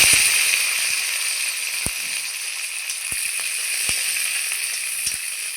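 Onion, garlic and green chilies sizzle steadily in hot oil in a pan, a continuous close crackling hiss broken by a few sharp pops and clicks throughout.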